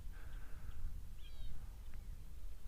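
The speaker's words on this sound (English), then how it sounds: "You can hear the call of the Cape Longclaw." A few faint, high whistled calls of a Cape Longclaw over a low rumbling outdoor background, with short thin notes scattered across a couple of seconds.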